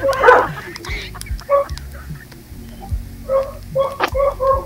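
Several street dogs bark in scattered bursts, some close and some farther off, with a few short yips over low background noise.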